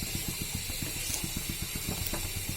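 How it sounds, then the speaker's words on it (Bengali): Potatoes stir-frying in a hot pan for a Bengali pabda fish curry, with a steady sizzling hiss and quick repeated scraping strokes of a spatula, close and moderately loud. "আমি আলু কষাচ্ছি।"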